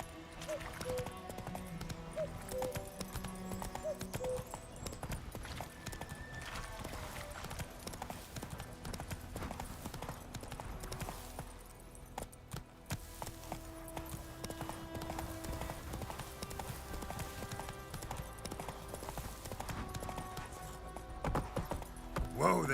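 Roach, the horse in The Witcher 3 video game, clip-clops along at a steady galloping pace for the whole stretch, hoofbeats close and continuous over game ambience, with an occasional soft whinny.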